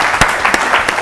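An audience claps for a school quiz team in a competition hall: a brief, dense burst of applause with a few sharper claps standing out, loud and close, with no talk over it.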